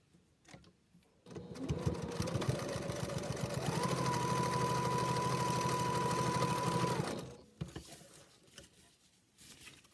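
A sewing machine stitches packing cube fabric at a half-inch seam, running steadily for about six seconds with a rapid patter that picks up speed midway, close and clear against a quiet room.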